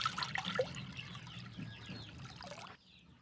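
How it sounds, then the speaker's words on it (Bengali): Water poured into a kitchen bowl, a faint continuous trickle and splash that tapers off after a few seconds, heard alone. "একটা বোলের মধ্যে নিয়ে নিচ্ছি জল।"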